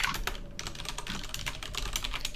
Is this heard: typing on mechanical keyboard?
yes